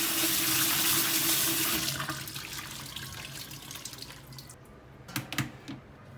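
Live eels being rinsed under a running kitchen tap, a loud close rush of water that eases off midway, followed by a few splashes and clinks in the sink, with no voices.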